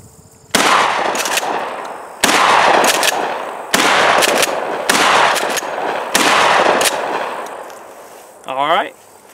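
Five loud gunshots fired at cans through a red dot sight mounted on a Ruger 10/22 rifle, evenly spaced sharp cracks each followed by a short decaying tail, close and dominant, with a brief clink near the end.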